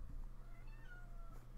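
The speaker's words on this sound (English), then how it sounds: "That's my cat, if you heard that." A house cat meows once, a rising and falling cry standing out clearly over a steady low hum indoors, with no talking.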